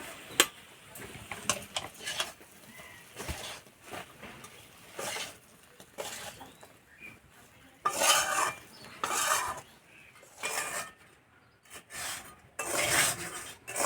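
Semolina sweet pieces coated in drying sugar syrup are stirred in a pan, giving repeated scraping, clinking bursts of utensil against metal in uneven rhythm, close and moderately loud, without talk.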